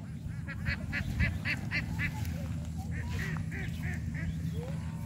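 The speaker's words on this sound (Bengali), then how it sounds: "পাশে নদীতে হাঁস" Ducks quack on a riverside in rural Bangladesh, a short run of calls followed by a second burst, fairly close, over steady low outdoor noise and faint background voices.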